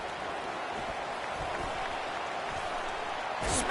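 College football stadium crowd cheering a punt return, a broad steady roar of distant voices and applause that swells slightly at the end.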